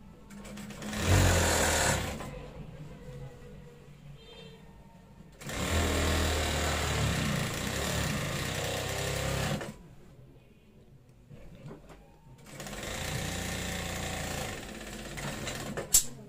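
Sewing machine stitching a round shirt-collar school kameez, three bursts of fast rattling stitching separated by quiet pauses, close and fairly loud.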